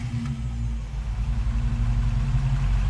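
A Jeep engine runs in a farming video game, a steady low rumbling idle with slight pulsing, close and loud with no talk.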